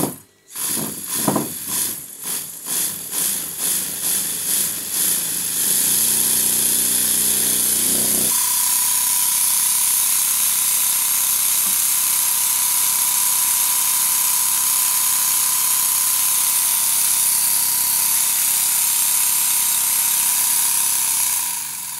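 A Stuart model steam engine running on compressed air on a bench: a rapid mechanical chuffing that speeds up over the first few seconds, then settles into a steady, fast, even whir with a faint tone.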